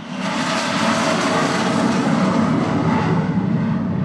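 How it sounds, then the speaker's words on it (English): A loud, continuous F-35 fighter jet engine roar during landing, with broad rushing noise that holds steady and slowly shifts, no voices. "First, he plays us a recording of the F 35 landing."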